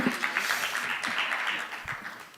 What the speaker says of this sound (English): I think she does deserve another round of applause